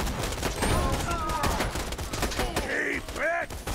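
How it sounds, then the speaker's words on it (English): Rapid automatic sniper rifle fire in the Borderlands 2 video game, dense repeated shots with game effects and a voice talking over it. "Auto sniper for the win"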